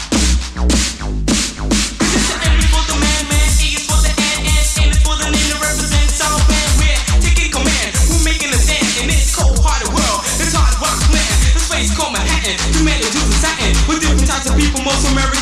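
A track plays over Kiss 100 radio in 2002: a loud, dense electronic groove with a thumping bass and steady drum beat, running continuously without talk.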